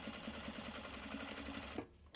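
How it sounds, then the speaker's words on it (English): A sewing machine stitches fabric from the basted side, a fast, even mechanical whir with rapid steady needle ticks that stops abruptly near the end. "why I'm sewing it from this side, is I can see the basting stitch"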